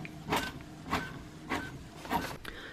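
A label printer feeds out sticky labels in four evenly spaced mechanical whirring bursts, one about every 0.6 seconds, quiet and close with no talking.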